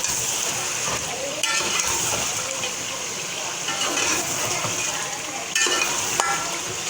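Chicken sautéing in a pan with coriander, cumin and black pepper, a steady close sizzle and frying hiss with occasional stirring scrapes running throughout.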